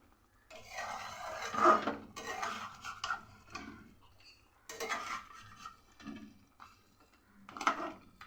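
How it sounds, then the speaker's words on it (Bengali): Spoon scraping and clinking against a pan while a mung dal mixture is stirred and sautéed, with irregular bursts of metallic scraping and soft thuds, close and moderately loud, with no talk. "এবার সবগুলোকে খুব ভালো করে আরেকবার কষিয়ে নেব।"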